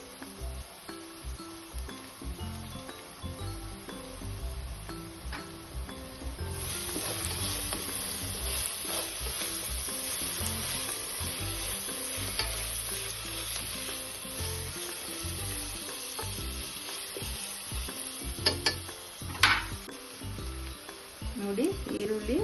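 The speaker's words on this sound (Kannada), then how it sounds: "ಈ ಟೈಮಲ್ಲಿ ನಾವು ಸಣ್ಣಕ್ಕೆ ಉದ್ದ ಕಟ್ ಮಾಡ್ಕೊಂಡಿರೋ ಆನಿಯನ್ ಹಾಕೋಣ. ಇದು ಸ್ವಲ್ಪ ಡೀಪ್ ಫ್ರೈ ಆಗಿದೆ." Thin-sliced onions deep frying in hot ghee for ghee rice, a continuous close sizzle that grows brighter partway through, with occasional stirring and a voice talking over it.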